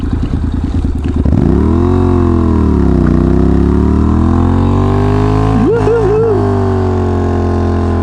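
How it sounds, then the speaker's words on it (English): Motorcycle doing a rear tyre burnout, a loud, close engine holding high revs with pitch sweeping down and back up, continuous throughout. "burning up some rubber here"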